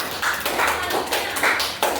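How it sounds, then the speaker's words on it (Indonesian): Students in a classroom coding lesson clap together again, a fairly faint, brief patter of hand claps in loose repeated bursts. "Boleh tepuk tangan sekali lagi ya."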